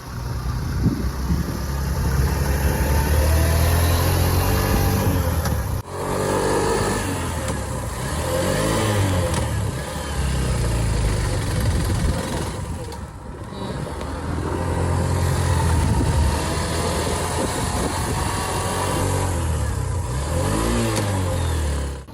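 A motorcycle engine runs loud and steady on a winding ghat road between Pune and Phopsondi village, its revs rising and falling throughout with no voices.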